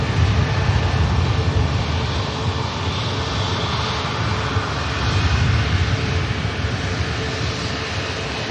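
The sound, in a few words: airplane engines at Manchester Airport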